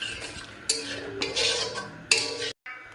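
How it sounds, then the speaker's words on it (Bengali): Spoon stirring biryani masala into a pot of rice, with scraping and clinking of metal on the pot in short bursts, close and fairly loud, no talk. "আমি বিরিয়ানি মশলাও এর মধ্যে দিয়ে দিলাম। সবগুলোকে এবার আমি মিশিয়ে নেব।"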